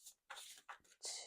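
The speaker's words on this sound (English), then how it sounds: "2 more shuffles." Tarot cards being shuffled by hand during a love reading, a few quick riffling bursts separated by short pauses, close and fairly faint, with no talk over them.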